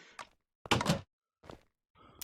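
A door is closed with a few separate knocks and clunks, the loudest a solid thump in the middle, each short and close with silence between them and no talk.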